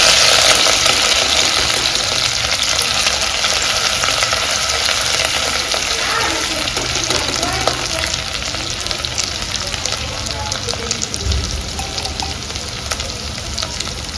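Ginger, garlic and chili paste hits hot oil for urad dal, producing a loud, dense, continuous sizzle that stays close and strong throughout, with faint stirring underneath and no talking.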